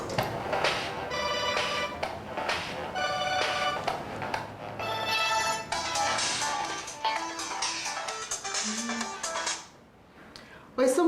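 A telephone rings repeatedly in a steady electronic pattern, with a voice speaking over part of it before the ringing stops near the end.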